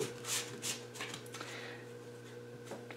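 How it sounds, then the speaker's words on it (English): Romance Angel Oracle cards shuffled and drawn from a deck, giving soft papery rustles and a few crisp card flicks close by, with a steady low hum underneath and no talking. "I'm going to now pull two Romance Angel Oracle cards"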